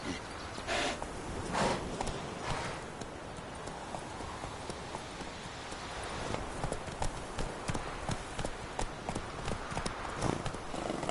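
Roach, a horse in The Witcher 3, gallops with steady rhythmic clip-clop hoofbeats that run the whole time at moderate loudness, with a brief whinny and light ambient game noise around them.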